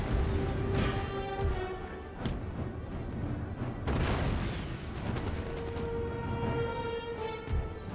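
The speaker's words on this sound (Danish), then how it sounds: "få noget kanonild herover af." Cannon volleys in the strategy game Empire: Total War, set in the Great Northern War, land as repeated deep booms at irregular intervals over a constant battlefield rumble.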